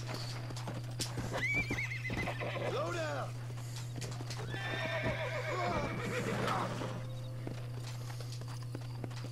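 Two loud horse neighs in the video game Red Dead Redemption, whinnies rising and falling, with hoof clopping throughout and a steady low hum underneath.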